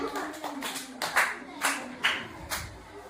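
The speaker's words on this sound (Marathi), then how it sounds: "टाळ्या वाजवा त्यांच्यासाठी अभिनंदन करा त्यांचं" A few people clap in scattered, uneven bursts at a school activity, fairly faint, with some talking mixed in.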